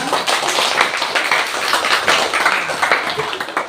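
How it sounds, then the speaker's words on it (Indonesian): Pupils in a classroom clap their hands at a teacher's request, a lively, fairly loud patter of many overlapping claps sustained throughout, close by, with no talking. "Tepuk tangan, ya"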